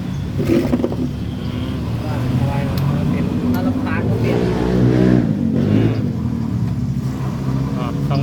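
Honda 125i scooter idling with a worn, noisy bearing, a steady close mechanical rumble and whirr running throughout while people talk over it.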